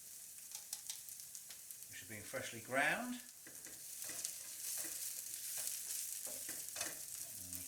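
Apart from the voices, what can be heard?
ground spices sizzling and being stirred in frying pan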